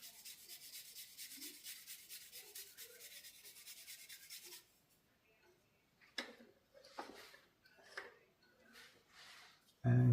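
A stick of charcoal is rubbed against sandpaper to sharpen it for a hand drawing, giving a steady, faint scratchy rasp for about four seconds, followed by quieter scattered taps and handling noises.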